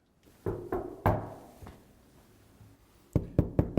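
Knocking on a condo door, a few heavy knocks followed by a quieter stretch and then a quick burst of three or four sharp raps, fairly close and with no talk.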